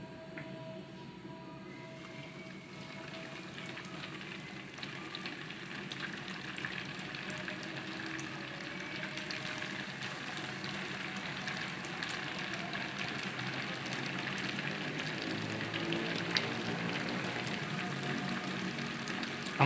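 Coated chicken pieces deep frying in hot oil in a kadai on the stove, a steady dense sizzle and crackle that holds throughout and grows slightly louder toward the end.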